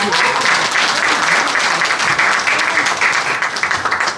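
A crowd at a Korean book launch event applauds warmly, a loud, dense wash of clapping that continues steadily from start to finish.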